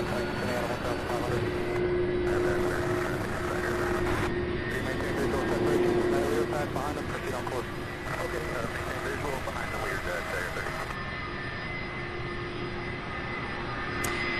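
Boeing 767 and Airbus A300 departing runway 17 right at Louisville International Airport, a loud, steady jet roar that holds for the whole stretch, with voices faintly underneath.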